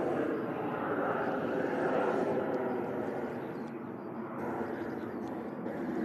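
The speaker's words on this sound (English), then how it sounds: "NetJets, beautiful Falcon heading out to Cologne." A NetJets Falcon business jet departs from Manchester Airport, its broad steady engine roar holding at a distance and swelling slightly before easing, under faint background talk.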